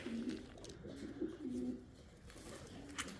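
Blue-eyed Uzbek pigeons cooing nearby, several low, soft repeated coos in a slow rhythm against a quiet background.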